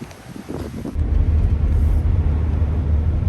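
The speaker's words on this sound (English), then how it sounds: "we have some good wind gusts going on right now" Strong hurricane wind gusts roar across a microphone outside a home in Orlando, Florida, a loud, continuous low buffeting that surges about a second in and then stays heavy throughout.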